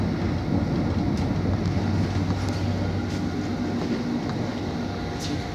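London Underground Hammersmith and City line train running on westbound track toward Wood Lane, a steady loud rumble with low drone and faint clicks throughout, recorded from on board.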